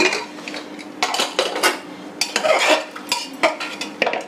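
Metal pots and a pressure cooker are handled in a home kitchen while chickpeas and halwa are cooked for Navratri offerings, giving close, irregular clanks, scrapes and clatters of cookware with no talk.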